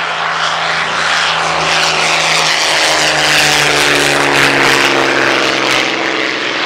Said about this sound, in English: Messerschmitt Bf 109s, played here by Hispano Bouchons